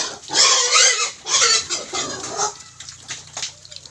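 Two large native pigs fight up close, letting out loud harsh squeals and grunts in bursts that fade to lower rooting grunts and scuffling.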